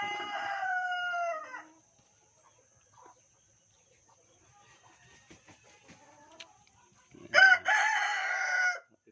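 Sussex and Rhode Island Red chickens on a farm, with a rooster crowing loudly at the start and again near the end, and quieter clucks and scratching in between.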